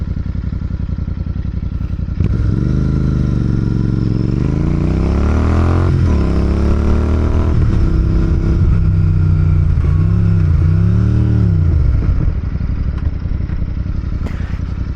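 A car on a road cranks and revs unevenly as it struggles to start, the engine rising and falling in labored surges for several seconds before dropping off, loud and close.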